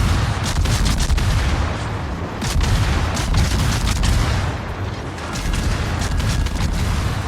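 Gunfire from the light cruiser Minotaur in World of Warships, a loud sustained barrage of booming salvos with mechanical clatter, close and dense throughout.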